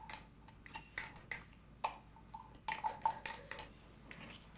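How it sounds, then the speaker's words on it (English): Glass beaker of barium hydroxide and ammonium nitrate powders being stirred, giving a series of light, irregular clinks and taps of the stirrer against the glass, close and fairly quiet. "Stir the mixtures and observe what happens."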